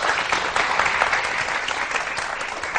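Steady applause from a studio audience on a Pakistani TV morning show, dense and continuous throughout without pause, fairly loud with no talking over it.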